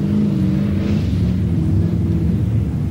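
Muscle car engine at a Summernats event holding a steady, loud, droning rumble as the driver works the shifter, with no clear rev spikes and no talk.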